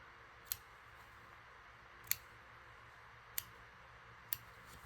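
Scissors snip off leftover bits of craft flowers, four crisp, isolated clicks spaced about a second apart over a quiet, faint background hiss.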